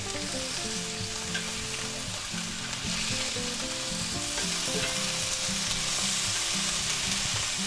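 Roasted pork and cheese sandwiches on garlic bread frying on a griddle, a steady close sizzle running unbroken throughout with faint stirring and scraping mixed in.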